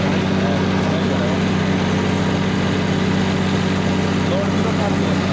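A John Deere 5310 55 hp tractor labors under load pulling a super seeder through a field, a loud, steady, low engine drone throughout, with a voice talking over it.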